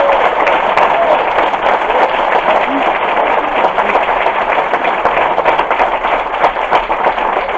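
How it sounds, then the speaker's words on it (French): Audience at a stand-up comedy show applauding a performer, a dense, sustained burst of clapping from a full room that holds steady throughout, with some talk mixed underneath. "Ça mériterait pas un petit coup d'applaudissement pour Billy?"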